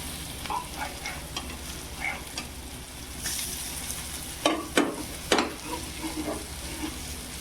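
Taro leaf rolls (alu vadi) shallow-frying in a pan over low heat, a soft steady sizzle broken by a few louder bursts as pieces are turned, close by, with no talk.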